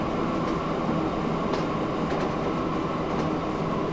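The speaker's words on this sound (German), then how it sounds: "Wenn du drin bist, fährt Kollege Dampflocke los." Steam locomotive pulling out in the video game Train Fever, a steady loud rumble of rolling wheels and rail noise with faint rhythmic clicks, continuous and close throughout.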